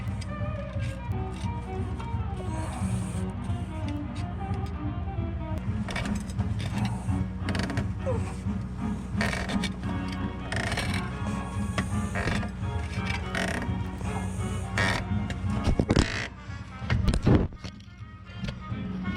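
A stuck diesel fuel hose being worked off the fuel filter of a Smart Fortwo CDI: close, continuous creaking, scraping and rubbing of rubber and plastic with irregular clicks, plus a few louder knocks near the end.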